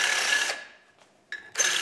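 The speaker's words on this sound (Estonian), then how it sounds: "nüüd kui me oleme täistiiru ära puurinud" A power drill bores out the seat for a spoke nipple in a motorcycle wheel rim, a short whirring burst that spins down, then a brief scrape and another start of the tool, close and fairly loud.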